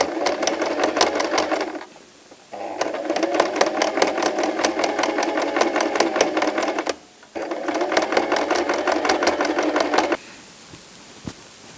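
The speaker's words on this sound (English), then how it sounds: "Then we just sew across the bottom of the fabric." A sewing machine runs in three long bursts of rapid, steady mechanical stitching as it sews across the bottom edge of a piece of fabric, separated by short pauses and heard close up with no talking.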